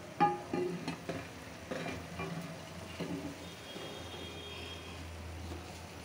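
Food sizzles in a frying pan while being stirred, with scraping stirs and clatters early on, settling into a steady low sizzle with a faint hum toward the end.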